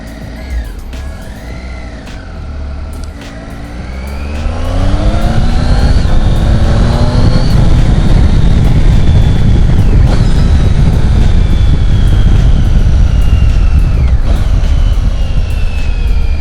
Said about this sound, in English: it's quite a thumpy sort of bike. This is a triple, same engine that's in the Daytona 675 and the Street triple as well